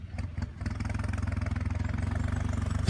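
A John Deere 5065E tractor engine reverses in high gear while pushing soil, giving a steady, close diesel rumble with a pulsing beat that holds even throughout.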